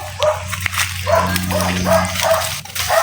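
Several dogs bark and yip close by in quick, uneven bursts for about three seconds, loud and continuous.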